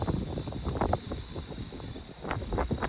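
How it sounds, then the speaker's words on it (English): Gusty wind buffets the microphone in uneven rumbling bursts, with a steady high whine from a nearby Blade Fusion 360 drone motor running underneath. "It is really windy right now."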